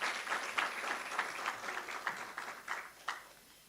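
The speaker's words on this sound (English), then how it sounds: "Can we give a round of applause?" Applause from a lecture hall audience at a memorial lecture and awards ceremony, a moderate crowd of hands clapping in a soft, uneven patter that slowly thins out, somewhat distant.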